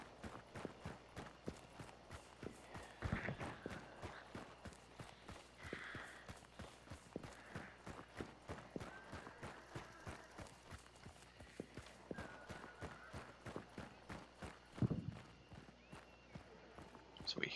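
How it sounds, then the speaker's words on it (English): A horse in the Hunt video game clip-clops at a steady walking pace for a long stretch, hooves sounding distinct and fairly near, with a couple of louder rustling bursts partway through. "So we hear a horse."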